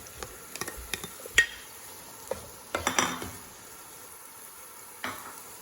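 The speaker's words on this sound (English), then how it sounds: "my onions have started cooking, and I'm now going to add about a teaspoon of garlic that has been minced and my celery that's been cut up" Minced garlic and chopped celery go into a pot of cooking onions for lentil soup, giving a soft sizzle under scattered clinks and scrapes of stirring, with a louder cluster of clatter midway.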